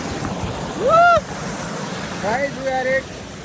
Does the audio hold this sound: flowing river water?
yes